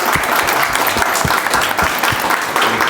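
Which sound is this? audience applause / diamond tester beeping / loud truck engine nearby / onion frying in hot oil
audience applause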